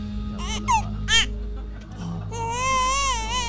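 An infant crying in the middle of the night, with short wailing bursts followed by a longer sustained wavering cry, close and fairly loud over a steady low hum.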